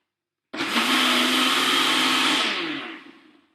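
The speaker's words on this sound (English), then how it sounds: "Okay, we need a better blender." A Ninja blender whirs loudly while blending rhubarb for a rhubarb fool, starting abruptly, running steady for about two seconds and then winding down as the motor slows, close by with no talking.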